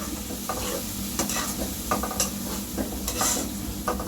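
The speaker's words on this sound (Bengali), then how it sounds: "এখন মশলার সাথে মিক্স করে নেব" Beef brain being stirred together with spices in a hot pan, a steady sizzle and fry running throughout with soft, repeated scrapes of the spoon, close and alone with no voices.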